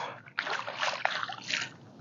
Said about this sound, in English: look how fast this water is running